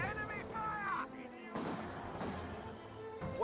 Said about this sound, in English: Great mortar hit there on the M242